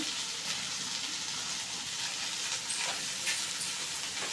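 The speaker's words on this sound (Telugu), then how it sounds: "ఇప్పుడు ఇది కలుపుకోవాలి బాగా కలుపుకోవాలి అంతా పట్టేలాగా" Maggi noodles with salt are stirred in a hot pan, giving a steady close sizzle with soft scraping strokes of the spoon.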